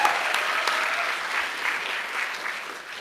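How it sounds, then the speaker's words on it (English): A crowd at a school board meeting breaks into loud, dense applause, a continuous roar of clapping that stays strong for about three seconds and eases slightly toward the end. "So let's give her a round of applause for being a partner of our school system."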